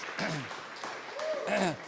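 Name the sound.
audience applause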